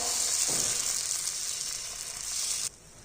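Besan batter poured onto a hot pan and spread out sizzles loudly and steadily, with a soft scraping swell early on, before the hiss cuts off abruptly near the end.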